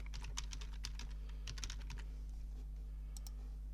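Fingers type quickly on a computer keyboard, giving a close, fairly quiet run of clicky keystrokes in short bursts over a steady electrical hum, with a pause before a final couple of taps.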